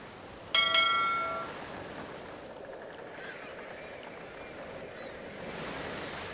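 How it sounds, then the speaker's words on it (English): Wind gusts and ocean waves at sea in the Carmen Sandiego video game, a steady wash of surf and wind noise with a brief bright tonal chime near the start, then even rushing water, no voices. "The wind is whisking by to the west."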